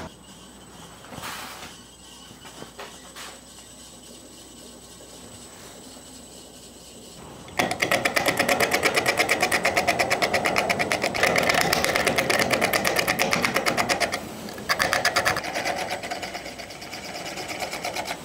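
A wood lathe spins a rough, uneven dogwood root, starting with quiet shop noise and then a loud, steady buzzing whir from about halfway on, with a brief dip near the end.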